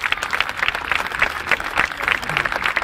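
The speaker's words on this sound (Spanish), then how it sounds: "Merece un aplauso inmenso." An audience at a Latin American folklore festival claps for the dance couples, a steady, dense applause from a large crowd with no one speaking over it.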